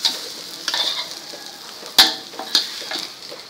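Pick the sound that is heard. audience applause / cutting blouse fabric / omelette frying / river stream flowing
omelette frying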